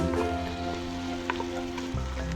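Garlic, onion and ginger sizzling steadily in a pan for a taro leaves and coconut milk dish, with soft stirring scrapes and a continuous close frying hiss.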